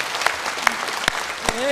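Congregation clapping in a church worship service for Jesus Christ, a steady dense patter of many hands with a few sharper claps standing out, with a voice speaking over it.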